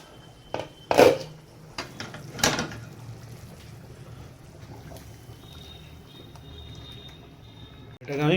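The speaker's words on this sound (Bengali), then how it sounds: "তো এবার আমি এই মশলাটাকে এর মধ্যে অ্যাড করবো।" Spice paste going into a pot of nearly cooked niramish khichuri, with a few sharp metal clanks and scrapes of a spoon against the cooking pot over a low kitchen background, plus a louder clatter at the end.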